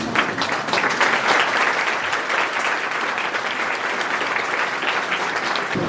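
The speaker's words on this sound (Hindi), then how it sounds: "तो कृपया तालियों के साथ स्वागत करें" An audience at a BPSC exam-strategy seminar claps steadily for about six seconds, a dense and even wash of applause with no talking.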